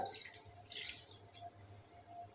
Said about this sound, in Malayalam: തേങ്ങയിൽ കുറച്ച് വെള്ളം ഒഴിക്കുക